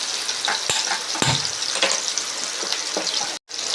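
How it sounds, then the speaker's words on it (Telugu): Steamed chicken frying in hot oil in a home kitchen; a steady, close crackling sizzle with occasional pops and spatters, briefly cutting out near the end. "ఇప్పుడు మనము ఆయిల్లో ఫ్రై చేసుకుందాం."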